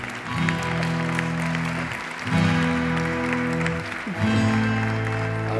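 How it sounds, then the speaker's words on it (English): Audience applause at the UNCTAD Women in Business Awards 2018 in Geneva as students take the stage, a steady wash of clapping over a sustained tonal hum, swelling in three waves. "An applause"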